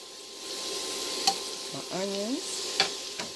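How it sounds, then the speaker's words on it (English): Celery, onions and scallions sizzling in a pan for oyster chowder, a quiet steady hiss with a few sharp clicks of utensils and a brief gliding squeak, close and without talking. "I've got my celery in here, and my onions and my scallions, and they are cooking up nicely."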